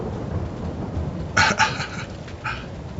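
Steady rain hiss from a rainstorm in the video game Farming Simulator 22, with a few short, sharp bursts rising above it near the middle and end.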